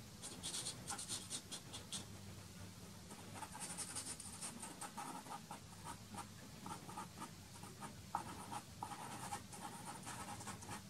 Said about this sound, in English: Here again, just drawing some of them back with some horizontal lines.